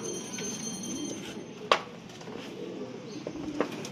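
Racing pigeons arrive at a loft during a race in Tuguegarao. Faint cooing and a couple of brief flutters and clicks sit over a quiet outdoor background, with no clear speech.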